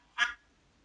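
A single short duck quack rings out clearly against near silence, one brief nasal call with nothing else around it.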